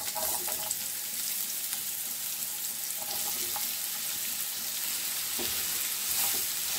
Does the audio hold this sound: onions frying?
yes